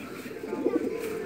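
A brief, soft coo from a young pigeon, low and throaty, close by in a quiet space.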